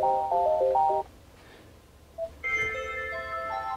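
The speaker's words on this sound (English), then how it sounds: "you do have three other ringtones if you want, or no ringtone. So you can just click the play button over there" A built-in Ford SYNC 3 or SYNC 4 ringtone preview plays through the car's speakers, a bright electronic chime melody in two short phrases separated by a brief pause, clear and alone.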